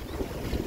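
Steady northwest breeze buffeting the microphone at sea aboard a sailboat, a continuous broadband wind rush with faint water wash beneath, no voices.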